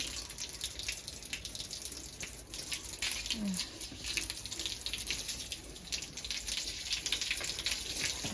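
Water runs steadily from a tap into a bath, a constant close splashing hiss with faint dripping, and a brief murmur of voice partway through.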